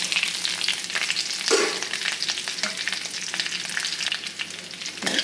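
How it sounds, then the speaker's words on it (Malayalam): Chopped broad beans (amarapayar) fry in a pan with curry leaves for a thoren side dish: a steady, close, crackling sizzle with a few stirring scrapes and no voices. "ഇനി ഇതിലേക്ക് നമുക്ക് അരിഞ്ഞു വെച്ചിരിക്കുന്ന അമരപ്പയർ ചേർത്ത് കൊടുക്കാം"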